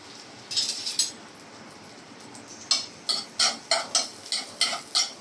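A small amount of onion fried with chopped garlic in a pan is stirred in regular scraping strokes, about ten rhythmic swishes over a faint background sizzle.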